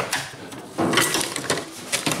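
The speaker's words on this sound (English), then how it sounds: "tap them down. I'm going to use the body hammer" Light taps and clinks of a body hammer on a 1977 Camaro Z28 cowl panel, a handful of short irregular knocks on metal, close by with no talking.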